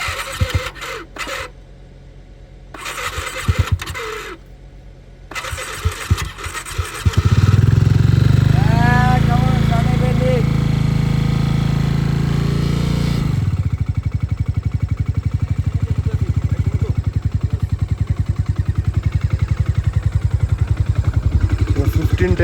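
A motorcycle engine idles steadily to warm up on a ride to Ladakh, a loud, close, continuous putter that starts abruptly after some quieter handling noise and runs on alone.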